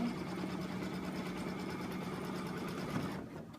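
An embroidery machine stitches a design into a hooped piece, a steady, close mechanical whir with a fast rapid needle pulse running continuously before easing off at the end.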